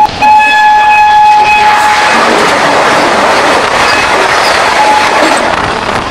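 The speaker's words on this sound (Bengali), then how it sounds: "সামনে থেকে ছুটে আসছে 130 কিলোমিটার গতিবেগ নিয়ে 22233 বন্দে ভারত এক্সপ্রেস।" A Vande Bharat Express, train 22233, rushes past at about 130 km/h with a loud, close, continuous roar and rattle, and a brief horn tone sounds at the start.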